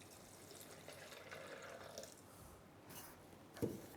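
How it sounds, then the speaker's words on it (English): Water pours into a blender jar holding cashews, a soft, fairly quiet running splash that lasts a few seconds and ends with a brief louder splash near the end. "I'm going to add some water."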